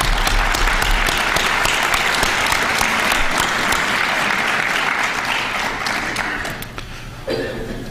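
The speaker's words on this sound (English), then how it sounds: "give the chief and the Austintown Township and the police force a round of applause" An audience applauds for a township police chief and police force, steady dense clapping that fills the room throughout, tapering slightly near the end with a few scattered laughs.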